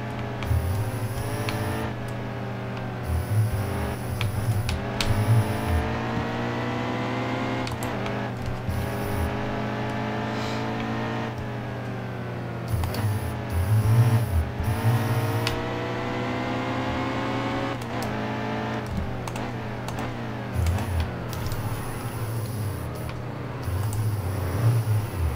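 NASCAR Cup Series stock car engines in NASCAR Heat 2 at Sonoma, a loud continuous roar that climbs in pitch and drops sharply at repeated gear shifts and braking for turns, heard alone without talk.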